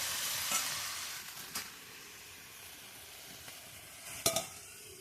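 Banana flower and potato pieces stir-fried in a pan, a soft steady sizzle with occasional sharper scraping stirs, fairly quiet and close with no talking.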